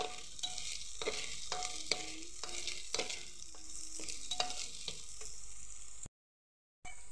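Soaked rice sizzles and crackles in hot oil while a spoon stirs and scrapes the pan in repeated strokes, close up, with a brief gap of silence near the end.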